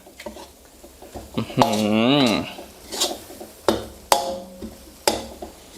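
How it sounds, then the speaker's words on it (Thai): A spatula scrapes and clanks against a pan as chili paste with canned fish and whole bird's eye chilies is stir-fried, with a long rasping scrape followed by several sharp metallic knocks. Someone speaks over it. "ผัดคลุกเขาให้เข้ากันครับ"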